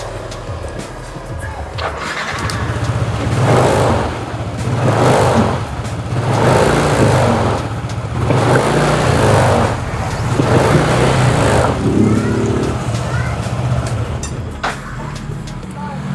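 A Yamaha NMAX scooter, an older model fitted with an upgraded TDR brake disc and Daytona brake pads, starts and runs close by. The engine hum swells and falls in repeated throttle blips, and someone speaks over it.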